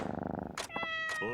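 A black cat in a video game gives a short purring trill followed by two brief, bright meows, close and clear against a quiet background.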